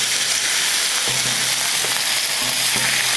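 Crushed spicy masala fish fries over a slow fire, a dense, even sizzle close up throughout with a few faint soft knocks, no talking.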